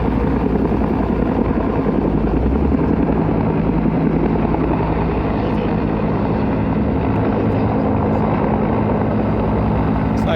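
Steady rotor and engine drone from a helicopter near Big Bear during a recovery operation, a continuous loud rumble filling the whole stretch without pause.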